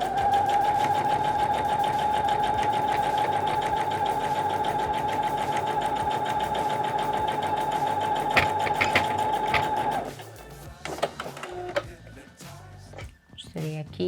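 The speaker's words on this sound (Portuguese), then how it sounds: "Vou costurar bem em cima da linha." Sewing machine stitching fabric along a marked line for a desk organiser, a loud, fast, steady whirring run for about ten seconds, followed by scattered clicks and handling noises as the machine stops.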